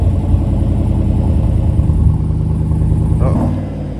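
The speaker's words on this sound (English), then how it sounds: "we're about to have a real rev off. Between the LZ1 and the Z71." Two lifted Chevy trucks, one with an LZ1 engine and one with a Z71 setup, rev against each other in a rev-off. A loud, steady engine rumble runs throughout and eases near the end.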